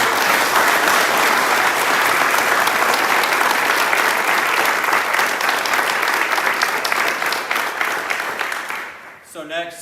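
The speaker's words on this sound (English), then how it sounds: "let's give a round of applause for our vendors" A crowd at a company safety recognition event applauds the event's vendors, sustained loud clapping from many hands that carries on for several seconds before tapering off abruptly.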